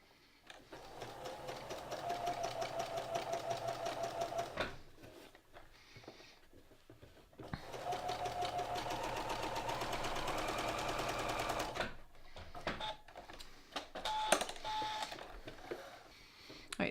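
Sewing machine running gathering stitches, two rows at 3/4 inch, in several steady bursts of rapid mechanical whirring with short pauses between runs, close and fairly loud.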